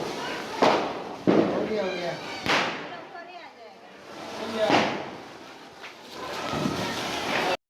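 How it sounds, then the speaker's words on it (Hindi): Diwali firecrackers burst at a night-time celebration: several sharp, loud cracks go off irregularly, each trailing into a rumbling echo, with voices in the background. "7 बजे से रात के 11 बजे तक पटाखा फोड़ने के बाद"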